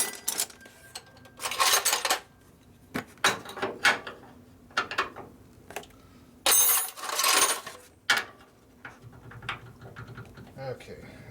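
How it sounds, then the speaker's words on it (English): Steel wrenches clink and clatter in several short bursts beside a rusty 1958 Ford F100 pickup, metal tools knocking together close by with quiet pauses between. "figure out what size wrenches you need up here"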